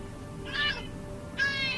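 A pet cat in a Harry Potter video game gives two short meows, spaced about a second apart, over a steady background of game ambience.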